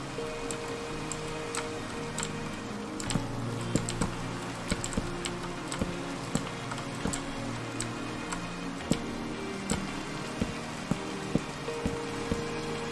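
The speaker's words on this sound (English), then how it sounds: "while it's raining here" Rain falling in the Minecraft modpack SkyFactory 4 makes a steady, even hiss dotted with faint irregular ticks and taps, continuing throughout without any voices.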